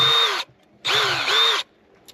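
A power drill whines at high speed in two bursts, the second longer, with a bit grinding through a metal bolt, loud and close.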